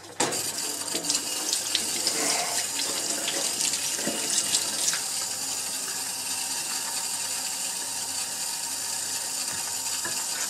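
A kitchen tap runs steadily as cleaned brass is rinsed under the stream, a continuous splashing hiss with a few clunks of the metal being handled in the sink.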